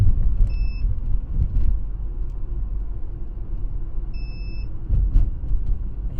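A power inverter inside a moving car gives two short electronic beeps a few seconds apart, each a thin steady tone heard over the low, constant rumble of the road.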